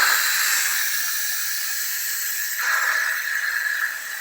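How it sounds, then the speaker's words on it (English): Steam hisses steadily and loudly from the steam valve of a pressure cooker in a home kitchen, a continuous close rush that briefly shifts and swells partway through, with no talking. "I'm going to place it on this steam valve here, and then we're going to release the steam."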